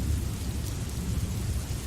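Night rain falls in a steady, dense hiss over a low, continuous rumble of thunder, even and unbroken throughout, with no voices.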